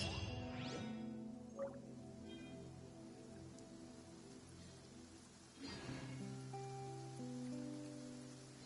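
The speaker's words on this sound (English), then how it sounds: "Taking a stroll in the middle of a downpour certainly rouses the spirit." Steady rain pours during a downpour at night in Fontaine in the video game Genshin Impact, a constant soft hiss under faint background music tones, with a whoosh partway through.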